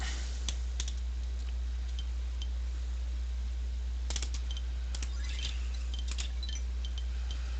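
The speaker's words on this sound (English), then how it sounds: "you're using the mouse and keyboard" Computer keyboard typing in short, scattered bursts of crisp key clicks over a steady low electrical hum, with no talking.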